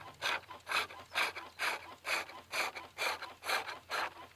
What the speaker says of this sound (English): smooth it out again with a wide flat chisel.